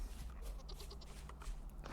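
Goats bleat repeatedly in the survival video game Vintage Story, several short nasal cries close by over a steady ambient hum.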